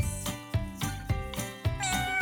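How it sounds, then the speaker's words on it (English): A cat meows several times in quick succession, close and clear, with no other sounds. "Cat."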